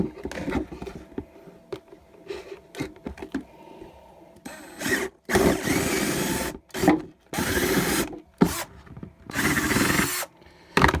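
Plastic dollar-store garden containers are poked with drainage holes around the base, about seven in all, producing a run of close, scraping, rasping bursts with short pauses between them.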